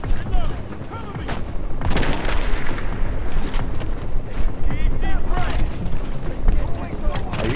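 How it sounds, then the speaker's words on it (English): Grenade blasts and gunfire from a video game crack and boom repeatedly in a busy, continuous barrage, with someone talking over the action. "Are you throwing grenades at me?"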